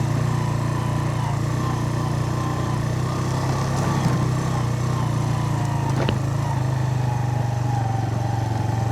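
Motorcycle ridden solo along a mountain track in the Hunza valley, its engine droning steadily and loudly near the rider for the whole stretch, with wind and road rumble and a brief clatter partway through.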